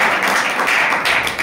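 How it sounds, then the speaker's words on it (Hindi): Dense, steady applause from a worship congregation praising the Lord in a church service, loud and continuous from start to finish with no voices over it. "आइए हम जोरदार तालियां बजाएंगे अपने खुदावंद के लिए।"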